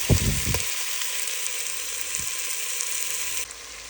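Italian sausage with the casings removed browns in a pan, giving a steady close sizzle and frying hiss with a few scraping stirs at the start, alone with no voices.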